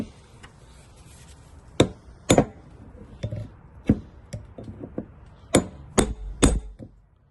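Sharp metallic taps from a tool striking the rusted fuel pump of a 2003 Chevy Trailblazer LTZ with the 4.2 inline-six, about a dozen close, irregular knocks with short pauses between them.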